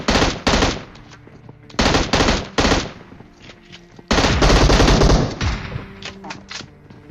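Burst-fire M16 rifle in a video game: three sharp, loud volleys of rapid shots with short pauses between them, the last burst longest, over a low background of game sound.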